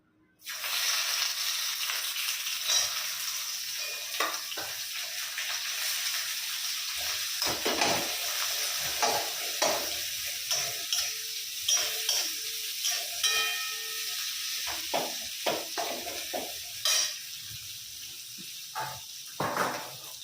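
Onions fry in rendered fat and oil, starting abruptly into a loud steady sizzle that runs throughout, with frequent scraping stirs and clacks of a spoon against the pan.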